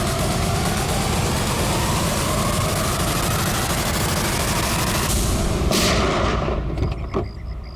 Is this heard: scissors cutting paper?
no